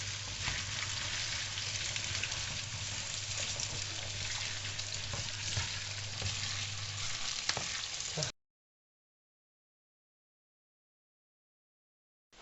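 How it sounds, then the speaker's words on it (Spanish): Onion fries in oil in a pan while being stirred, a continuous close hiss and crackle with a low hum beneath, ending abruptly in silence with a brief burst at the very end. "Y ahora echamos la cebolla. Y lo mezclamos."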